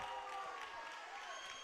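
Cache fans in a gym cheer during a Newcastle vs Cache basketball game after a missed free throw, a continuous crowd roar with faint clapping and talk underneath.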